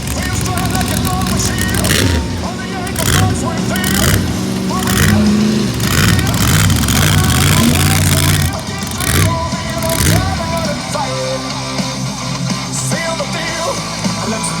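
Monster trucks in the hot pit firing up and rolling toward a side-by-side drag race start line at an outdoor Ohio event, a loud continuous engine rumble with revving swells, and a public-address announcer talking over it throughout.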